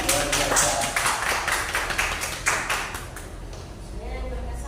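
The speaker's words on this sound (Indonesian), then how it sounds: "Tepuk tangan." An audience claps at a teachers' training gathering, a dense burst of applause with loud individual claps up front that gradually thins and quiets toward the end.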